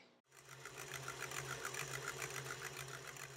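Egg whites being whipped into foam produce a steady, close whirring drone with a fast rhythmic pulsing that runs continuously after a brief start, with no talking.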